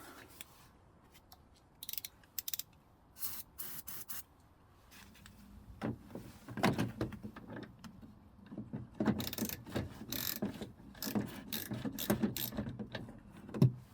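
A ratchet loosens 8mm bolts on a BMW N62 4.4 V8 in a 2004 E60, with faint sporadic clicks giving way to louder bursts of ratcheting and metallic rubbing up close.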